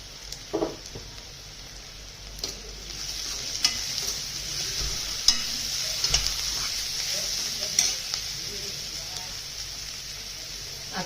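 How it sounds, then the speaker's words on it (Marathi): Onions sauté in oil in a pan for a dry potato bhaji, giving a continuous close sizzle broken by a few sharp spatula scrapes and clinks, with no talk over it. "कांदा छान परतला गेलाय."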